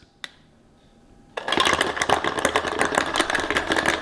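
A cheap hot chocolate maker whirs to life after a click, frothing milk with ice cubes that rattle and clatter steadily inside the jug, loud and close with a churning, machine-like rumble.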